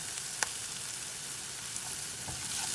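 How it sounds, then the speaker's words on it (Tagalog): Garlic sautés in hot oil for a Filipino ginisang mongo, a steady close sizzle with faint stirring scrapes and a couple of sharp pops, no voices. "So, pwede na natin ilagay ang ating bawang."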